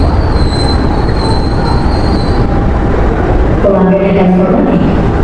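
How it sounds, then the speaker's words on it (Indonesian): A train rolls into a station loudly with a heavy rumble, high wheel squeal early on, then brakes and groans as it slows to a stop. The Sawunggalih train in Indonesia. "Nah ini teman-teman untuk penampakan kereta yang sudah datang ya."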